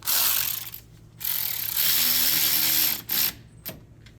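A ratchet runs down a small 13 mm nut during a Ford F-150 front wheel bearing and hub assembly install, in a few loud, close bursts of rapid clicking separated by short pauses.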